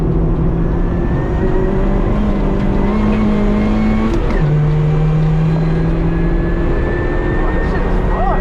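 Supercharged 1990 Honda Civic EF with a D16Y8 engine on a local road course, its engine droning loudly and steadily with gear changes partway through, heard from inside the car.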